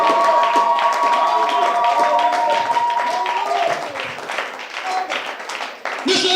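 A church congregation claps and cheers in acclamation, sustained applause mixed with voices and a held sung or shouted tone, gradually thinning out toward the end.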